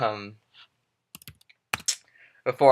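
A few quick keystrokes on a computer keyboard, typing terminal commands, click sharply in short bursts between brief moments of someone speaking at the start and end.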